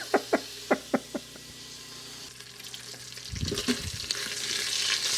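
Bacon frying in an Instant Pot running on a Briggs and Stratton generator during a power outage, with steady crackling sizzle, a few early knocking taps, and popping spatter that grows louder toward the end.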